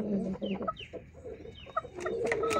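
A Japanese Shamo rooster clucks in short, irregular calls close by, the bursts scattered over a backyard pen's background noise with no talk over them.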